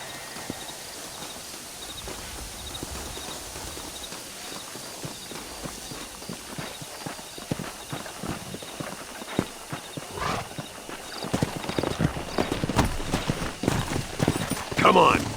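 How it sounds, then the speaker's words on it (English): Horse hooves clip-clopping and a horse neighing in the Red Dead Redemption video game, with steady walking hoofbeats under game ambience that grow louder and busier toward the end, with a whinny near the close. "Come on, horses are over here."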